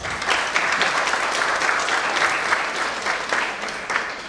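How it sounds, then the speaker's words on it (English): Audience applause at an inaugural ceremony fills the room, a dense, sustained clapping from a large crowd that carries evenly throughout. "Let us all give them a warm round of applause."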